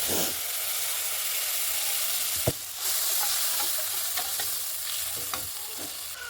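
Spice paste of coriander, cumin and turmeric powder mixed with water sizzles and fries steadily in a hot pan for a vegetarian vegetable dish with lentil dumplings, with a few sharp stirring clinks and scrapes against the metal.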